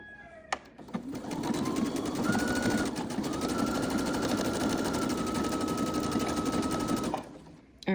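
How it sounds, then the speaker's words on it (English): A sewing machine running a zigzag stitch through scrunchie fabric, a loud, close, rapid mechanical whir that starts around one second and holds steady for about six seconds with a brief slowdown, then stops, no talking. "I am going to zigzag stitch this, and I'm going to let you watch the whole process and watch me pull through the fabric"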